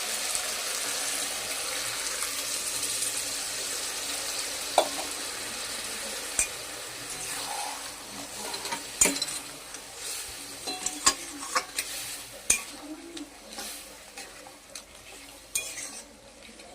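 Cooked dal is poured over fried spices in a pot and sizzles with a soft hiss that fades, while a spoon stirs and scrapes with scattered sharp clinks against the metal.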